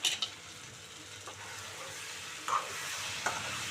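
Brinjal and potato curry with ginger-garlic paste and chili cooking in a pan: a steady soft sizzle with a few sharper stirring scrapes and clinks, close and moderately quiet.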